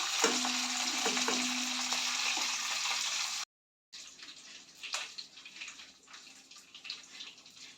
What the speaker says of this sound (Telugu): కాసేపు అలా వదిలే, అవే ఫ్రై అవుతాయి